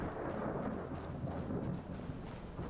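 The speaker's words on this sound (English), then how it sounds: "Raindrops being generated in the sky." A rolling, rumbling thunderstorm in Skyrim, deep continuous thunder under a dense wash of falling rain, loud and sustained throughout with no talking.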